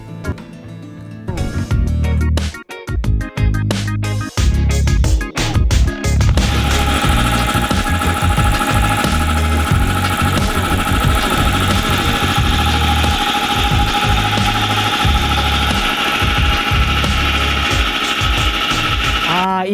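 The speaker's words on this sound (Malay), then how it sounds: "Itu motor itu untuk mengempam angin mengempam udara masuk ke dalam kompresor mesin pemampat." Electric motor driving an air compressor, a loud continuous mechanical hum with rattling and vibration that settles into a steady drone after some clattering at the start, with speech mixed in.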